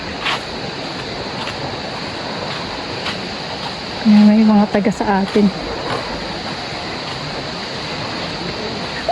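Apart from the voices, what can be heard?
water pounding at Balon Falls waterfall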